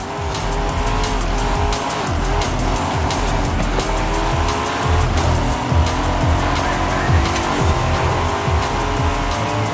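Racing cars in Forza Horizon 5 roar and rev with chugging engine tones and squealing tires, loud and continuous, with pitch swinging up and down through gear changes and no talk.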